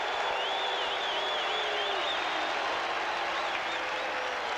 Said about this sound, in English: Now listen to the crowd.